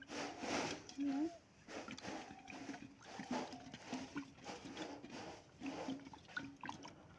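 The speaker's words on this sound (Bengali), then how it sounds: "এখন কাঁকড়া ধুচ্ছি" Crab being washed in water splashes and sloshes in repeated bursts close by, while people talk over the watery sounds throughout.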